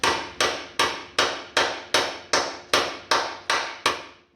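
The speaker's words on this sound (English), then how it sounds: "I'm going to take my hammer, and I'm going to tap this in at" A hammer taps metal on a 1948 Chevy truck during welding work, striking ten times in a steady, even rhythm. Each blow is sharp, loud and close and rings briefly, with no talking.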